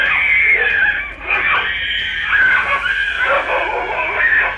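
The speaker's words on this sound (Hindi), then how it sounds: "इस दौरान बच्ची चीखती रही जबकि आवारा कुत्ते उसे नोचते रहे।" A young girl screaming continuously and shrilly as stray dogs attack her outdoors, a loud, strained cry rising and falling over about four seconds with no clear barking.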